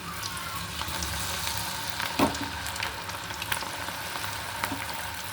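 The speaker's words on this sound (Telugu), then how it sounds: "ఆయిల్లో డీప్ ఫ్రై చేసుకోవాలి." Batter-coated cauliflower for gobi 65 deep-fries in hot oil with a dense, steady sizzle. Occasional louder pops and crackles break through it, and a clink or stir stands out partway through.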